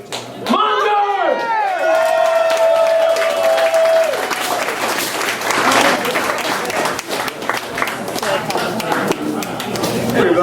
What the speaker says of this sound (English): I want everyone to give a big round of applause for Kris Monger!